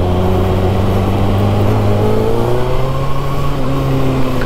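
A Kawasaki Ninja ZX6R rides through Bangalore traffic, its engine humming smoothly and loud and close, the pitch rising gradually as it accelerates over a steady background of road noise.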